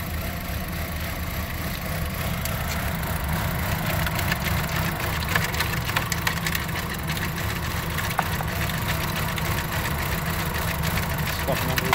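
A Chevy Cobalt engine keeps running roughly after a neutral drop. The idle is loud and close, with a constant rattly mechanical clatter and occasional sharp knocks.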